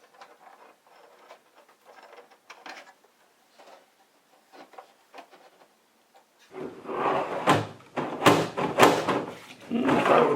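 A metal drawer of a Kennedy machinist tool box is slid back onto its runners, first with faint scattered clicks, then a run of loud, close metallic rattles and clunks as it goes in.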